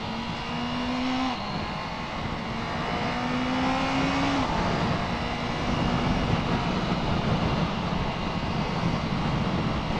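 A Honda CB650R E-Clutch motorcycle engine climbs and drops through gears with rev-matched downshifts, a steady mid-pitched engine note over continuous wind and road rush while riding.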